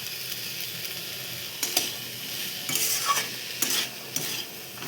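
Soaked moong dal fried in a pan for khichuri, with a steady soft sizzle under repeated scraping stirs of a spoon, clustered in short bursts.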